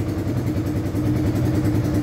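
A 1986 Honda CBR400RR motorcycle, its carburettors freshly cleaned and tuned, idles close by with a steady, loud, rapid low-pitched engine pulse and light mechanical clatter, no voices over it.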